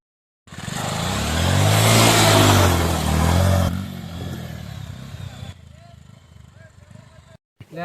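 A motorcycle engine rumbles loudly up close, revving higher then easing off and fading, before an abrupt cut and brief noise.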